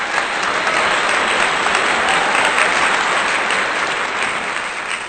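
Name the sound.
applause, round of applause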